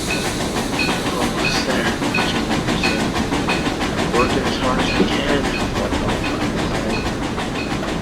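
A train in Trainz Railroad Simulator 2019 rolls on rails with steady rhythmic clatter and hiss, while a voice talks over it.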